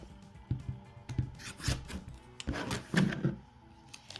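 Fabric being trimmed for a half-rectangle triangle quilt block, a series of close, soft rubbing and rasping cuts coming in short irregular strokes, quiet and with no talk over them.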